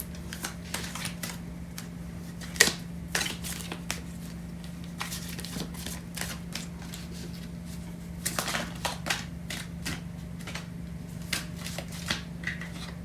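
Tarot cards being shuffled and handled during a love reading, soft rapid riffling and flicking in irregular bursts over a constant low hum, close and quiet with no talk.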